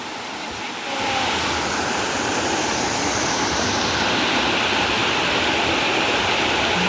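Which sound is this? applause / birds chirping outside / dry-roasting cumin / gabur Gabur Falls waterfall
gabur Gabur Falls waterfall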